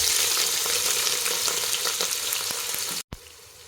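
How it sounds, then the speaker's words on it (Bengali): Chopped onions dropped into hot soybean oil for mutton curry, a loud dense sizzle close by that cuts off abruptly near the end. "তেল গরম হওয়ার পর আমরা দিয়ে দিব 200 গ্রাম পরিমাণ পেঁয়াজ কুচি।"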